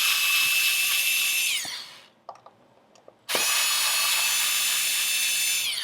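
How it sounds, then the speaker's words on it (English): A power drill or screwdriver backs out pickguard screws on a Fender Stratocaster guitar, whining loud and steady for a second and a half, pausing briefly amid small clicks, then spinning up again for about two and a half seconds. "self-explanatory on how to take these screws out"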